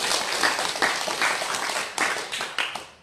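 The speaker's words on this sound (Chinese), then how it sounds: "明白的话鼓掌一下" Scattered audience clapping at a Buddhist dharma talk, moderate in level, with uneven bursts and brief swells across a few seconds rather than a dense roar.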